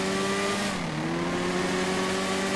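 Kawasaki Z1000 and BMW F800 motorcycles accelerating hard side by side in a drag race, a loud sustained engine roar climbing in pitch with a brief dip as a gear shifts, then rising again.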